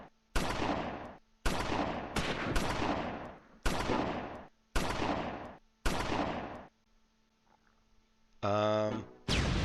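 Gunfire in the World War II strategy game Close Combat IV, a series of sharp, loud bursts and rapid volleys with short gaps, followed by a quieter stretch and a final mechanical buzzing burst.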